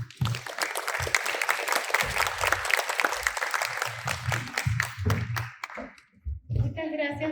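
Audience at a Spanish-language parents' school talk applauds the doctor who just presented, a sustained patter of clapping mixed with a nearby voice talking over it, fading out near the end.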